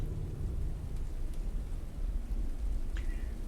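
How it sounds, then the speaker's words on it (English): A rain and snow storm in the video game The Dark Egg, a steady dull rush of rain with low rumbling wind, holding level throughout, with a brief faint ping near the end. "Rain and snow pelt against your body."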